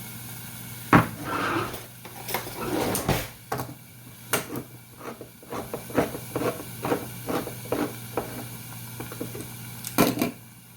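Metal cookware clanks and taps in a kitchen while hamburgers cook, with scattered sharp knocks and a lid set onto a pan among other short clatters, and no talking.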